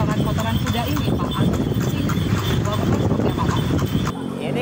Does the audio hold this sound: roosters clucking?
no